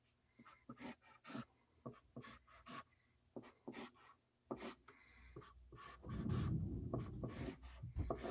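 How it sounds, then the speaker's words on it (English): A pen drawing on a piece of paper, making quick repeated scratching strokes in short bursts close to the mic, with a longer rubbing stretch near the end. "here, I'll draw this over here."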